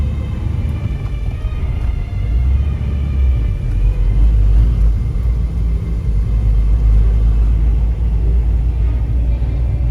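An HJ60 Land Cruiser on a test drive gives a loud, steady interior engine drone with deep road rumble that swells slightly midway and carries on without pause.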